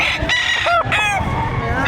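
A rooster crows loudly and close by at a livestock auction market in Padre Garcia, Batangas, one full crow with a few clucks around it and people talking in the background.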